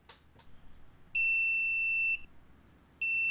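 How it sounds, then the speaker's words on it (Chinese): A piezo buzzer on a homemade ATtiny412 toilet leak alarm sounds two loud, steady electronic beeps: one lasting about a second, then a short gap, then a second beep starting, over faint background noise. "接着我们可以烧入 Blink 程式来试一下蜂鸣器的音量"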